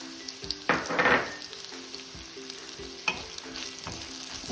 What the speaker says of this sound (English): And we fry the onion for 7 to 8 minutes.